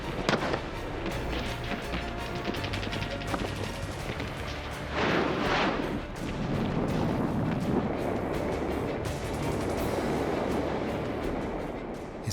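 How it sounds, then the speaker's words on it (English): Heavy gunfire and booming artillery in a World War II street battle in Manila, with dense, continuous blasts and crackling shots rumbling throughout and a louder burst of explosions partway through. "They face snipers, machine gun nests, and hidden artillery."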